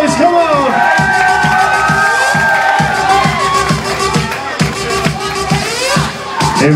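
A live crowd cheers and shouts loudly for a 16-year-old DJ, with whoops and a dense babble of voices over a thumping, regular low beat. A voice rises from the noise at moments.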